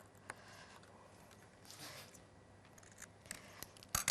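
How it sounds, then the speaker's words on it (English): Scissors snipping through paper card for a frosted poinsettia craft project make a few faint, quiet cuts and rustles, ending in a sharper crisp snip. "So what I need to do here then is to snip this off."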